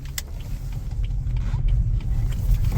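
A BMW 330e iPerformance plug-in hybrid's petrol engine running after kicking on in save-battery sport mode, a steady low rumble with faint mechanical creaks, heard up close with no talking.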